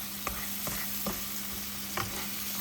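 Masala fries in a pan with a continuous close sizzle, and a spoon scrapes through it in about four separate strokes. No one speaks.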